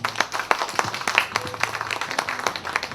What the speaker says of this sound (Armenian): ձեր ծափերը,